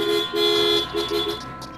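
Car horns honk in heavy city traffic, with several short toots and one longer blast rising over a steady road rumble, close and fairly loud.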